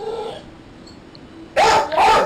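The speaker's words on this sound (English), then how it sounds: "I've skipped 10 minutes of Chucky's barking." A caged dog barks for attention, two loud close barks near the end after a quiet stretch with faint earlier yelps.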